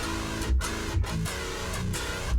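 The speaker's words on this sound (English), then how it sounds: "That's the sound of any preamp in real life without a cab" Harsh, fizzy distorted guitar through a HeadRush MX5 preamp with the speaker cabinet turned off, with a thin, buzzy top end, played as short rhythmic chord stabs, moderately loud and alone.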